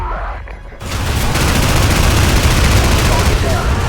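Loud, sustained gunfire in Call of Duty 4: Modern Warfare, a heavy barrage building after a brief quieter opening and staying dense and close to the end, with no speech.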